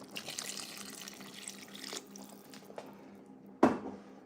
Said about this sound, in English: I'm gonna add one more cup of water